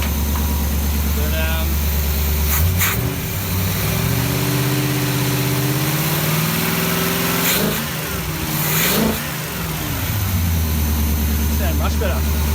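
A Holden HZ engine idling and revving through a newly fitted exhaust with a leak, loud and close, with a couple of blips of the throttle and someone talking over it.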